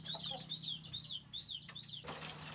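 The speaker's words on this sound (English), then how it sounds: "The chickens seem to recognize their owner. They gather around just as he arrives." Chickens gather for feeding time in a village on Sulawesi, giving a string of repeated high, rising-and-falling chirps, followed by a short burst of clatter near the end.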